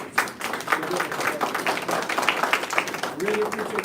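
Audience applause at a press conference launching a collaborative effort against family violence, steady clapping from a crowd running throughout, with a voice speaking over it near the end.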